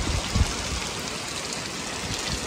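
Monsoon rain with stormy wind in Devgad taluka, a steady dense rushing hiss of rainfall with a brief low gust-like thump near the start, continuous and fairly loud with no voices.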